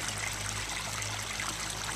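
Creek water trickles and burbles continuously in a woodland setting, a close, steady wash of flowing water with no pauses and no one speaking.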